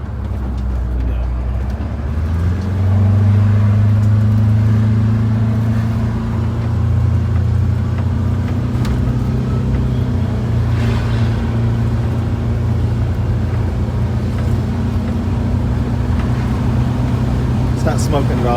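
A GM 4106 bus engine rises in pitch as it accelerates on a test drive, a loud, close, steady diesel drone with a sustained low hum, people talking faintly over it.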